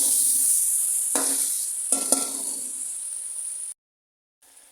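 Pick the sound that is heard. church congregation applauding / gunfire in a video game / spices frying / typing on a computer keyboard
spices frying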